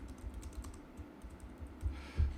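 Keys on a computer keyboard clack in quick, uneven bursts at close range, with a short pause and a slightly harder cluster of strokes toward the end.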